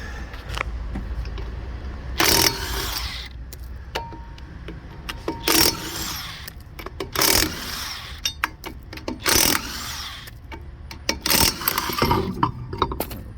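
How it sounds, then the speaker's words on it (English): A 17 mm socket tool removes a wheel from a 2011 Volkswagen Jetta during an ABS sensor repair, in five short, loud whirring bursts spaced by a second or two of quiet. "It's a 17 socket I'm going to use to remove the wheel."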